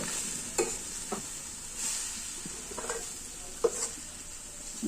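Moringa leaves and taro greens being stirred in a pan: a few soft, scattered scraping strokes over a faint, steady sizzle, fairly quiet and with no voices.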